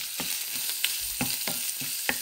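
Seasoned food with onion powder and chicken bouillon frying in a pan, a close steady sizzle broken by repeated scraping stirs at an irregular rhythm.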